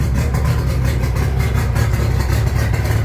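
A 1994 Mercury 60/45 jet outboard engine runs steadily near the listener, a loud continuous low rumble with a slightly uneven idle throb and no voices.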